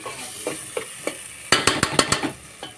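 Water splashes into a sizzling tempering in a hot pan while cooking a desi breakfast dish, setting off a close, loud cluster of sharp crackles and hissing bursts after a few softer pops, with no talking.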